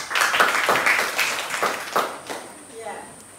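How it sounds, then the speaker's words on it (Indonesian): Classroom of elementary pupils applauding for a presenting group, a burst of dense clapping that fades within a few seconds, with children's voices mixed in. "Oke, tepuk tangan untuk kelompok 5 dulu."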